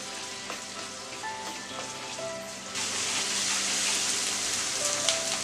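Oil and aromatics sizzle steadily in a hot pan while cooking Kerala egg roast, a continuous crackling hiss that grows fuller and louder partway through, with faint clinks on top and no voices.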